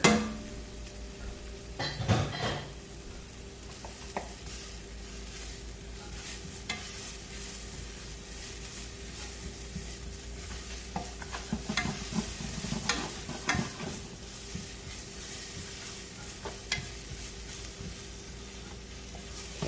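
Shallots sauté in a pan with a soft, steady sizzle, broken by occasional scrapes and clinks of stirring, heard close and fairly quiet.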